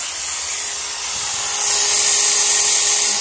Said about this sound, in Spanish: un taladro encendido